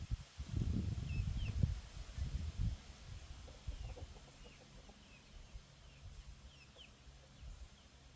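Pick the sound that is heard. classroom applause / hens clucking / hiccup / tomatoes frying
hens clucking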